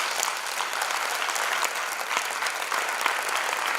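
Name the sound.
audience applause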